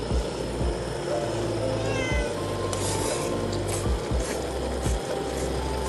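A cat meows repeatedly at a campsite, several short, fairly clear cries spread through the clip over steady background noise.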